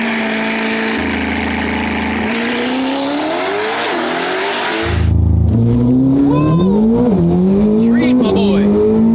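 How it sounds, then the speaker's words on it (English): Chevrolet Corvette C8 ZR1 race car accelerating hard through its gears, the engine note climbing and dropping at each shift, heard loud from inside the cabin. "we're in Wheeler's ZR1 against the badass ZR1X. Should be a good run."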